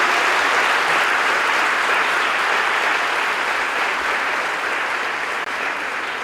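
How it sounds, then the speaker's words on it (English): Dense, steady applause from a large convocation audience at Lahore College for Women University, honouring graduates receiving degrees, awards and medals; loud and continuous throughout, tapering only slightly at the end. "please join us to give a big round of applause for the recipients of degrees"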